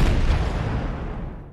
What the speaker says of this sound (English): Cool fireworks.